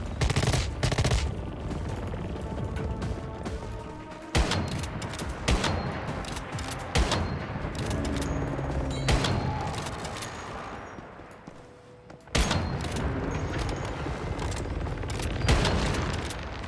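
Repeated sniper rifle gunfire against a mob in the survival shooter Once Human, loud cracking shots at irregular intervals with dense combat noise and booms filling the gaps between them.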